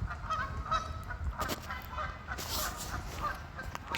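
Geese honk repeatedly at a moderate distance along a creek, overlapping calls coming in irregular bursts against a low outdoor rumble.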